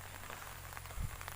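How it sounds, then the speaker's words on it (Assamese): Heavy rain falls steadily on surfaces in a rural Assamese setting, a continuous close hiss with a brief low thump near the end, no voices. "খুব বৰষুণ দি আছে"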